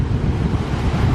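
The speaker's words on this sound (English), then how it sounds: "It is so windy today." Strong wind on a Maui beach roars and buffets steadily with a deep rumble, close and loud, with surf noise blended into the gusts and no voices.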